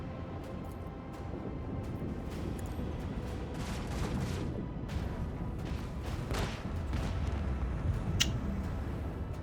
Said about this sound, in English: if I slide that way, I can fire the macro cannons.